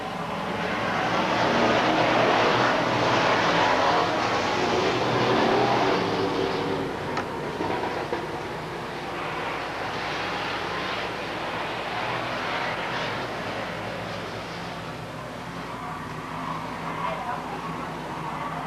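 Stock cars race on an oval track in a field of engines that roars loudly, then settles into a steady, somewhat distant drone as a voice calls the action over it.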